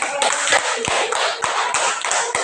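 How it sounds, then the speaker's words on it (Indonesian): Classroom applause for a presenting student group, a small number of people clapping in a quick, slightly uneven rhythm, close and fairly loud with distinct individual claps. "Kita berikan tepuk tangan."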